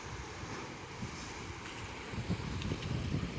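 Sea waves wash on a beach in Llanes, Asturias at falling tide, a steady faint broadband hiss of surf with light wind noise and slightly stronger low rumbles toward the end, no voices.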